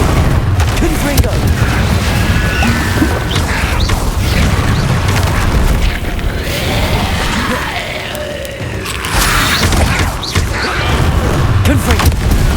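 Repeated explosive Confringo spell blasts in the Hogwarts Legacy video game, heavy booms and crackling bursts layered over dense, continuous combat noise and a voice throughout.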